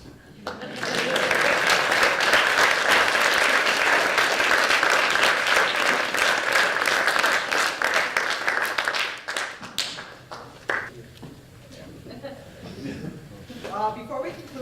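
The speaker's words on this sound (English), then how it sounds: "One awkward applause." A dense, loud burst of audience applause fills a room at an Eagle Scout court of honor, holds steady for several seconds, then breaks into scattered claps as voices start up at the end.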